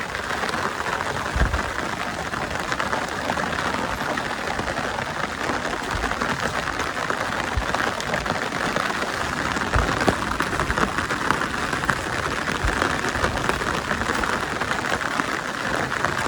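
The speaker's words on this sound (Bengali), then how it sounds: "বৃষ্টি জোরাইতেছে" Heavy rain falls near a river as a dense, unbroken hiss that holds steady throughout, with no voices.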